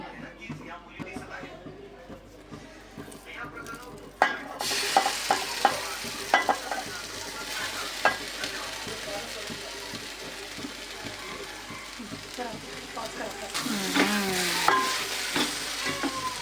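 Taro pieces and other ingredients are stirred and fried in a pan on a low gas flame, a quiet scraping at first, then a steady sizzle with ladle scrapes once the food goes in, with a voice briefly audible.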